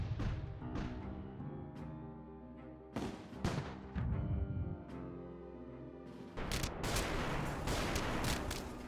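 Cannon fire in ship-to-ship combat in the video game A House of Many Doors, heavy booming shots and volleys over a sustained game music bed, with a louder barrage near the end.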